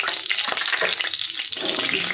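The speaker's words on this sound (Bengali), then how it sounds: "জিরেটা ভাজা ভাজা করা পর্যন্ত আমি একটু ভেজে নেব" Half a spoon of cumin seeds frying in hot oil as a tempering: a steady, dense sizzle and crackle that holds fairly loud and even throughout, with no talking.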